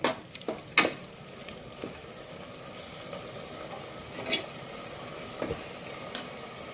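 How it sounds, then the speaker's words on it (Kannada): Spices for kuska rice fry gently in oil, making a faint, steady sizzle with a few sharp clinks of a spoon against the pan near the start and again midway. "ಸ್ವಲ್ಪ ಎಣ್ಣೆಯಲ್ಲೇ ಫ್ರೈ ಆಗಲಿ ಇದು"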